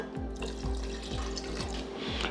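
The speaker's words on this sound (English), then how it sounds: "Now I'm going to put in a cup of water." A cup of water is poured into a pot of homemade tomato soup with broken-up tomatoes, giving a short, close, steady splashing pour with rhythmic low pulses and no talking.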